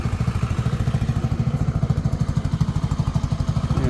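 A Motobravo Roma 150cc scooter engine runs close by with a rough, rhythmic chugging idle, a fast even pulse of low thumps that holds steady throughout.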